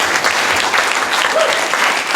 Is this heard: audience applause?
yes